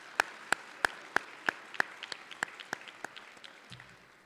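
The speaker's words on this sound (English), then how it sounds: "Give him another round of applause, please" A sparse round of clapping at a debate championship awards ceremony: about a dozen crisp, evenly spaced claps that grow softer and blur into faint scattered patter before trailing off.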